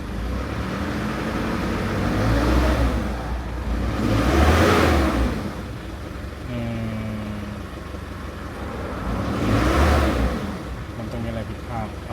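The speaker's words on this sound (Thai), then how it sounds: "ทีนี้เราก็จะลองเร่งดูนะครับ" A car's engine, checked for EVRV duty cycle, idles and then revs up twice in long swelling bursts that fall back to idle each time, heard nearby with a faint whirring between the revs.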